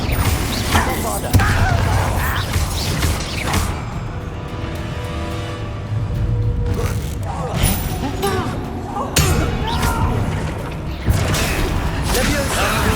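Repeated booming blasts from the Bombarda explosion spell in Hogwarts Legacy hit amid combat clatter and mechanical rumbling, while a voice speaks over the action.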